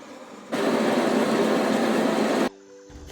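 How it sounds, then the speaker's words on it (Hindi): A flour mill (chakki) grinds wheat into dalia, a loud dense whirring roar that starts abruptly, runs steadily for about two seconds and then cuts off, leaving a fainter mechanical hum. "फिर बिन डाल दियो चक्की के अंदर और बिंगो दलियो पीसन लग गया"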